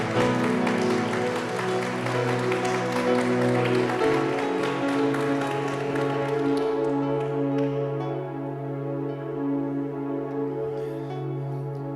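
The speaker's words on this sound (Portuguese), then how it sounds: "Pode aplaudir" A church congregation applauding during a Sunday service: dense clapping rises over sustained organ-like music, then thins and fades after about seven seconds while the music carries on.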